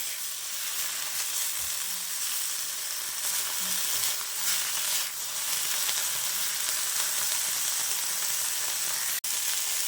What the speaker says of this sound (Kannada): ನಾನು ಇದಕ್ಕೆ ಸ್ವಲ್ಪ ಉಪ್ಪನ್ನು ಆ್ಯಡ್ ಮಾಡ್ತಿದ್ದೇನೆ. ಚೆನ್ನಾಗಿ ಫ್ರೈ ಮಾಡ್ಕೊಳ್ಬೇಕು.